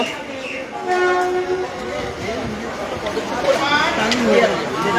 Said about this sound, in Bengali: কৃষ্ণনগর স্টেশনে প্রবেশ করলো ইনাগোড়া স্পেশাল ট্রেন